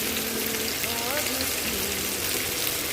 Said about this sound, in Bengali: অল্প কিছুক্ষণ তেলে নাড়াচাড়া করে নেওয়ার পর আমি দিয়ে দেবো পেঁয়াজ।